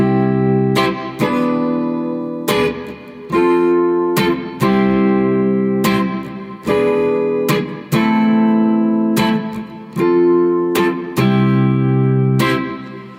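Guitar playing the verse of a song, repeated strummed and picked chords in a steady rhythm, close and loud with no speech.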